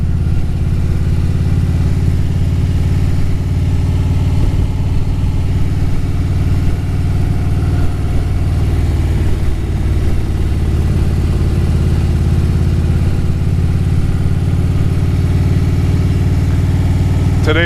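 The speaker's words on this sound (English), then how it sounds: "Today I'm riding the 2013 Road Glide Custom." A 2013 Harley-Davidson Road Glide Custom idling close by, a steady loud low rumble that holds throughout with little change in pitch.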